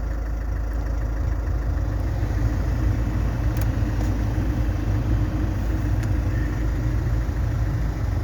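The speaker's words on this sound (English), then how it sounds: "the fan motor works." Heater blower fan motor in a 2012 Land Rover Freelander 2 runs after a heater resistor replacement, giving a steady, continuous whirring hum at an even level throughout, with no talking.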